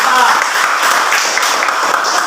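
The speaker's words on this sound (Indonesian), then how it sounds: "mari kita berikan tepuk tangan kepada kelompok A" A classroom of students applauds a presenting group, a dense burst of clapping that carries loudly and evenly from start to finish.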